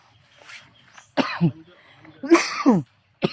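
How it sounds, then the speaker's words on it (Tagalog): A person coughs close by: two harsh bursts in quick succession, then a louder pair of rough coughs, with a faint sound starting again at the end. The room is otherwise quiet. "Medyo inuubo talaga ako."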